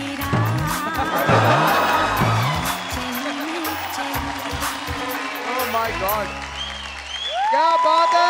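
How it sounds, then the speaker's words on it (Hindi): Loud applause from a TV singing show audience for Akshay, with scattered cheers and dense clapping that swells and fades, mixed with music and some voices. "अक्षय सर के लिए एक बार जोरदार तालियां हो जाए।"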